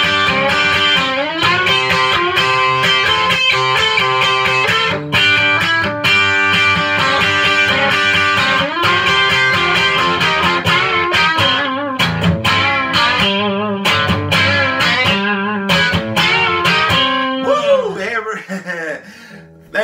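Distorted electric guitar played through an Ampeg amp runs through a lick, loud bending sustained notes and choppy chord stabs, ending with a brief flurry of ringing notes.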